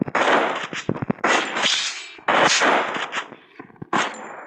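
Rapid gunfire bursts in a shooting video game landing headshots, loud repeated volleys in quick clusters with short gaps between them, no speech.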